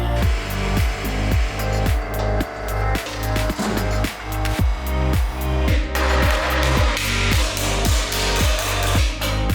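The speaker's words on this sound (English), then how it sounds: "So I'm grinding this in" An angle grinder works on sheet metal during rust repair on a VW Golf Mk3, a loud close whine pulsing in repeated bursts as it bites and eases off, with no talking.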